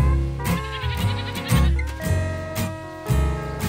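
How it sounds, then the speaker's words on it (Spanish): Retinta Extremeña goats bleat close by on a farm, several loud wavering calls overlapping in quick succession, one after another with short gaps between them. "Hablamos de la cabra retinta extremeña, una raza que persiste al trabajo duro de ganaderos"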